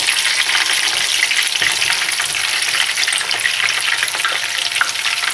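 Chicken morcon fries in a pan with a loud, continuous close sizzle and crackle and a few soft stirring bumps, with no voices.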